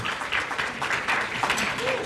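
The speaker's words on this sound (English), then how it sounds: "please give him a round of applause as well" Steady applause from a conference audience, a dense patter of clapping holding an even level throughout the short stretch.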